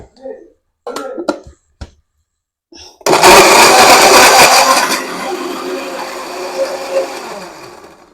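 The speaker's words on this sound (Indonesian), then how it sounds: "jadi Bunda blender dulu sedikit biar ada air nanasnya" A kitchen blender chops pineapple for jam with no added water, starting abruptly with a loud whirring roar that settles into a steady grinding hum, following some brief talk and throat noises.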